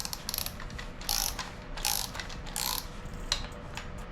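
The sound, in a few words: ratchet breaking loose cam bolts on LS engine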